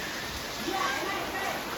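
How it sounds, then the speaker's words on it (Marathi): Heavy rain pouring steadily during a Gauri immersion festival, a dense even wash of noise with voices in the background. "लयच जोरात पाऊस आलाय"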